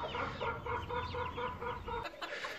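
Several Swedish chickens cluck steadily and close by in a city-centre coop, a busy overlapping chorus of short clucks with a faint background hum.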